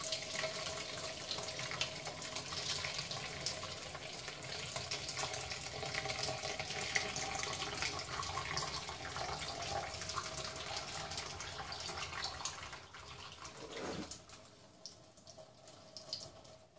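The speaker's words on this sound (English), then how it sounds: "Once you drain out all the water, you're going to put in some milk." Water from a pot of cooked macaroni pours out steadily in a continuous splashing rush, like a sink running, close by, then tapers off near the end.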